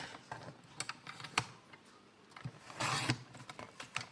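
A paper trimmer slicing through card stock for a handmade congratulations card, heard as a series of sharp close clicks and taps with a longer scraping sweep of the blade in the middle, no talk.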